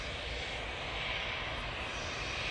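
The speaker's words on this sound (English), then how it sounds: "Wow, steep angle of ascent there on that 321 Neo." Airbus A321neo airliner climbing steeply after takeoff from Manchester Airport, a faint, steady broadband jet roar with no distinct changes over a few seconds and no voices.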